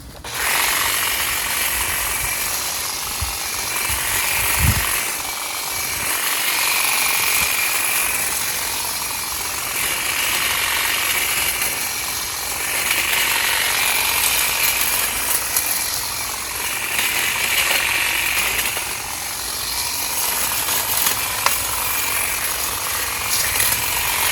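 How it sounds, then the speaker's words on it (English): A Makita hedge trimmer works through thick vines, its reciprocating blades buzzing steadily for a long stretch with rhythmic surges as branches are cut, plus occasional snaps and rustling of brush, close and continuous. "I'll show you the Makita first here, and I'm just gonna try to get this stuff, just trimmed up and make it look nice."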